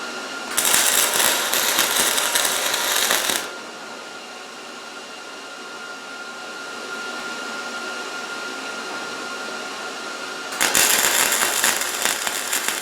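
Welder tacking metal pieces for a kiosk frame, with two bursts of harsh, crackling buzz, one about three seconds long and another starting near the end, separated by a quieter stretch of steady background hum.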